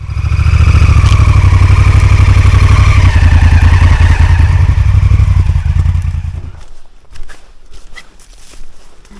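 Off-road motorcycles on the Trans Czech Trail revving hard on a forest trail, a loud, close, continuous engine roar for about six seconds that then cuts away to quieter rustling and knocks.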